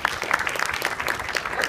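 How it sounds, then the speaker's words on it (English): Applause for sponsors from a cosmetics company at the opening event of an international young environmentalists gathering: a short burst of dense, steady clapping from an audience. "Could you please stand so we can give you a round of applause?"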